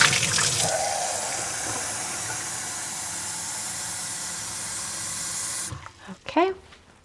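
Fresh water running from a tap into a bucket, a loud continuous gushing hiss close by that stops abruptly near the end, followed by a brief clatter.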